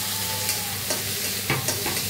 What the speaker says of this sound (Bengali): টমেটো ভাজা সিদ্ধ করে নিই ভালো করে।